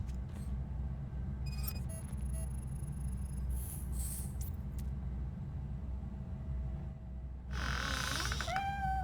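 A cat in the video game RoboCop: Rogue City gives a short meow near the end, heard over a constant low game rumble with scattered faint chirps and clicks earlier on.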